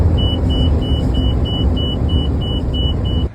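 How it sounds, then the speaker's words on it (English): A rapid, regular electronic beeping, not from the vehicle itself, repeats steadily over a loud engine rumble inside a moving overland truck cab in Morocco, then cuts off abruptly at the end. "we had a beeping within the cab"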